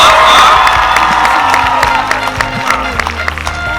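A high school graduation crowd applauds and cheers loudly, with whoops and shouting over dense clapping that stays strong throughout, easing slightly toward the end.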